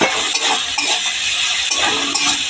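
Chilli, onion and garlic paste sizzles in a hot pan with turmeric, giving a steady, loud frying hiss with occasional faint clinks of a utensil.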